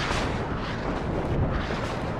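Dense, rumbling barrage of heavy artillery fire in a battle video game, with large shots pounding continuously into a roaring wall of noise, no clear gaps between blasts.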